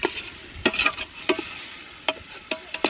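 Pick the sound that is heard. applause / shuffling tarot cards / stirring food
stirring food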